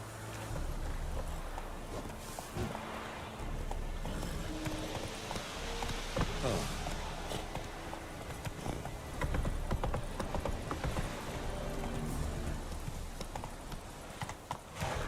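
A horse gallops steadily in The Witcher 3, hooves clip-clopping in a fast, continuous rhythm that stays close and loud for the whole stretch, with no talk over it.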